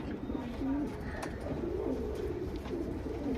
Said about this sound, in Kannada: ಚಿನ್ನಿ ಫೀಮೇಲು, ಹೆವಿ ಟೆಂಪರ್ ಅಕ್ಕಿ.